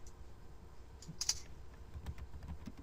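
Computer keyboard keys tapped in a steady run of soft, close clicks during a demonstration of typing in a shared document, with no talking.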